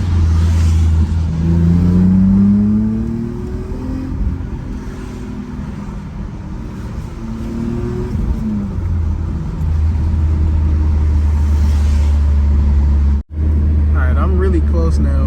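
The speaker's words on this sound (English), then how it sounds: "I'll give you a downshift real quick though." A BMW E36 M3 engine blips and revs through a downshift on a rainy day, its loud throaty drone rising and falling over steady road rumble and tire hiss.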